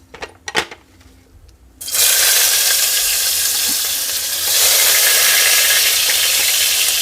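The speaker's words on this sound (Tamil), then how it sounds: "வெங்காயம் போட்டுட்டு அது கொஞ்சம் வணங்கணும்." Onions hit hot oil for a drumstick leaves soup, breaking into a loud, steady sizzle after a couple of quiet seconds with a few clicks. The frying continues close and unbroken and grows slightly louder toward the end.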